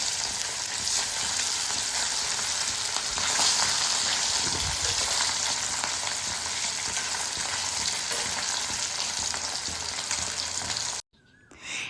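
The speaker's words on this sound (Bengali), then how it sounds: "বাকি মাছগুলোকে নুন হলুদ মাখিয়ে বেজে না" Fish rubbed with salt and turmeric frying in a pan, a loud, steady sizzle with faint stirring that runs unbroken for about eleven seconds before cutting off abruptly.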